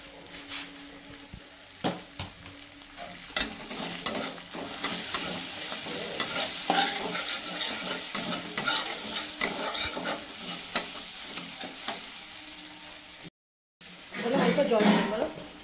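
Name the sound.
spice paste frying and stirred in pan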